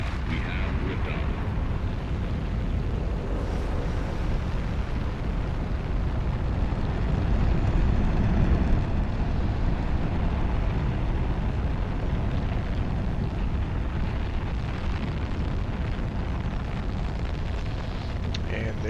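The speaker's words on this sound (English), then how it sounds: "Liftoff. We have liftoff." Rocket engines roar continuously at liftoff in the video game The Last Caretaker, a dense, loud, sustained rumble that swells slightly midway, with a voice faintly present beneath it.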